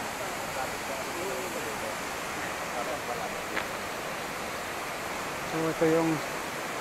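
A waterfall at Majayjay, Laguna gives a steady broadband rush, with someone speaking briefly over it.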